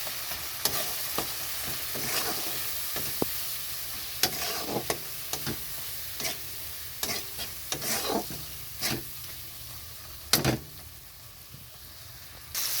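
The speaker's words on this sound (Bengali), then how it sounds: "তো মশলাটা ভালো করে কষাতে হবে।" Spice masala frying in a pan for a Bengali mixed-vegetable dal, a low sizzle broken by many irregular scrapes and clinks of the spoon, close and moderately quiet.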